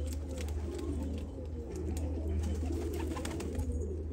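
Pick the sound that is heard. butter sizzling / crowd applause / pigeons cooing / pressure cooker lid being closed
pigeons cooing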